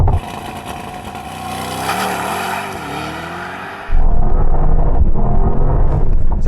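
Mercedes-AMG GT launch-control race start: engine held at high, wavering revs, then a sudden loud surge as the car launches and accelerates hard, close and roaring.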